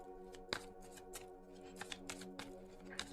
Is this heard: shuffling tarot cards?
yes